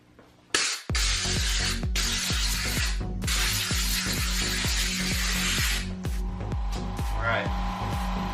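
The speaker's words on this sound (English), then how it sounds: "Let me spray the air for a sec." Compressed air hisses in long loud bursts while cleaning an old oil pan on a Mitsubishi Eclipse 2G build, two sustained blasts separated by a short pause, with a steady low engine-like hum beneath and no talk.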